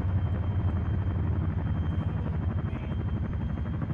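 Chinook helicopter in a multiplayer military video game event, a steady loud low rotor rumble with rhythmic thumping that holds unbroken throughout, close and dominant.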